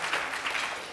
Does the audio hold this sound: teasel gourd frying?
no